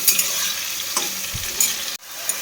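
A paste of ginger, cumin and dried chilli is stir-fried with browned onions, a loud close sizzle with spoon scrapes and a brief knock, cutting out for a moment before resuming.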